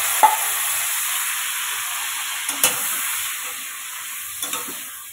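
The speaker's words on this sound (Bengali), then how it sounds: "এখন আমি আলু আর কুমড়ো শাকটা দিয়ে দিচ্ছি ডাঁটাটা।" Potato pieces and pumpkin-green stalks land in a pan of hot frying spices, giving a steady loud sizzle with a few clacks of stirring and scraping on top.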